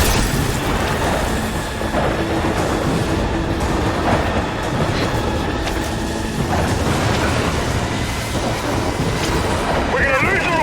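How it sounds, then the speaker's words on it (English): A train in the video game Gears 5 rumbles along the rails with a loud, continuous mechanical roar and metallic clatter, and voices break in over it. "The train's gonna beat us to the bridge!"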